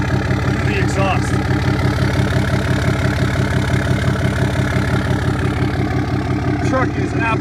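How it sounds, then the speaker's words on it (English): A lifted 2009 Dodge Ram 2500 Mega Cab with a 6.7L turbo diesel and 4-inch straight-piped exhaust idles loudly and steadily, a deep rhythmic throb with a faint turbo whistle rising now and then. "You can hear the turbo spooling through the exhaust."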